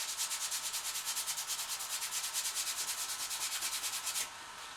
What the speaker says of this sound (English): I'm just going to give it a light sanding.